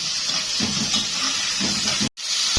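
Liver and gizzards sizzle steadily in a pan with black pepper, a continuous close hiss broken by a brief silent cut near the end.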